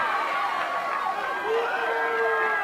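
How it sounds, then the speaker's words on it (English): Crowd murmur at a high school football game between Lunenburg and Fitchburg at McCarran Field, a steady wash of many voices and scattered shouts as spectators file in, with no single voice standing out. "A solid crowd here at McCarran Field tonight, still filing in as well."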